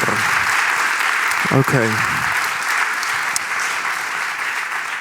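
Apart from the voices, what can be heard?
audience applause for Stefan Alspeer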